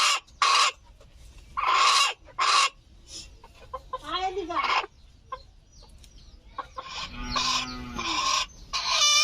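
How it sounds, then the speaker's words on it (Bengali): A native hen sitting in a netted coop to lay eggs squawks and clucks in loud, close bursts, with harsher drawn-out cries in between. "খাঁচার ভেতরে মুরগিটা বসে রয়েছে, কেমন চিৎকার করছে দেখতে পাচ্ছেন আপনারা অবশ্যই।"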